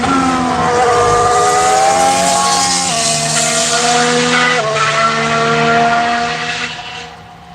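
A Red Bull Formula 1 car driven by Gasly at Barcelona testing screams past at high revs, its engine pitch holding steady and shifting down through gear changes before fading away near the end.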